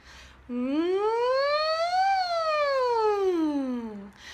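A single voice imitates a siren, its pitch sliding smoothly up and then back down in one sustained, even tone.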